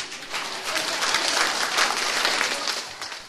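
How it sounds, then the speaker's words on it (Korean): An audience applauds at a Korean essay contest ceremony, a steady wash of clapping from many hands that swells slightly in the middle and continues throughout. "모두 한번 우리 모두를 위해서 박수 한번."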